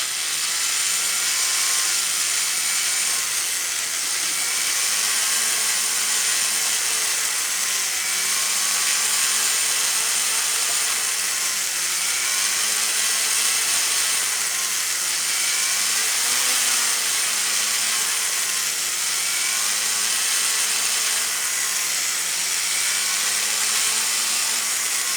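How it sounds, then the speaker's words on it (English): A spinning polishing mop loaded with blue Unipol compound works the inside of a jewellery ring, giving a continuous steady whirring motor hum with a faint wavering tone, close and unbroken, with no voices. "with the polishing mop"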